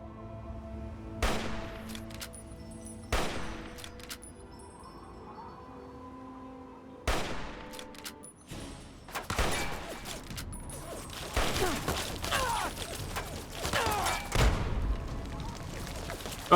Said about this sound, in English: Oh, that's a minigun.